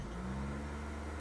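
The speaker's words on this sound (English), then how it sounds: "Only thing left is start the car and see what happens." A Honda Civic engine idles steadily after a fuel pump replacement, a low, even hum with a faint hiss and no talking, quiet and close.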